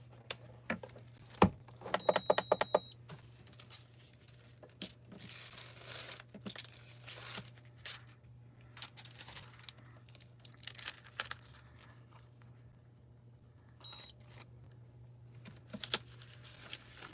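Thin transfer foil crinkles and rustles as it is pressed over vinyl craft butterflies, soft intermittent crackles with a brief louder flurry early on, over a faint steady hum.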